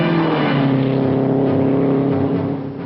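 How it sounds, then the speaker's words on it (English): Two 1960 racing cars at full speed on the track, with a loud, steady engine roar throughout that eases off slightly near the end. No talking. "the 2 hottest cars on the track get up to speed"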